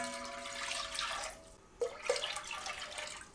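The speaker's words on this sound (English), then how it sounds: "So I'm going to add 2 cups of water to our pot" Water is poured into a cooking pot while canning garden vegetables with vinegar brine, a steady splashing stream that thins out briefly and then returns with a couple of sharper splashes.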